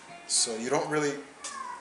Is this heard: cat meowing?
yes